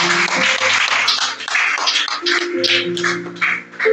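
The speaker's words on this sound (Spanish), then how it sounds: "vamos a dar un aplauso al Señor por la palabra antes de empezar" A church congregation applauds together in a sustained, dense patter of clapping, with organ or keyboard chords sounding alongside and the applause tapering near the end.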